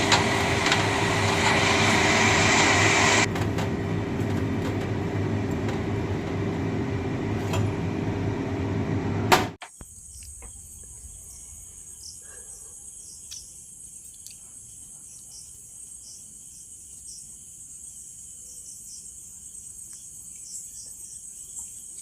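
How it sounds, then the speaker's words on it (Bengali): Hilsa fish frying in hot oil in a wok: a steady, loud broadband sizzle for about nine seconds, then it cuts off abruptly, leaving a quiet hum and a faint high tone. "এবার তেল গরম হয়ে গেছে, তো মাছগুলো দিয়ে দেওয়া হয়েছে। এবার অল্প অল্প করে ভেজে নিতে হবে।"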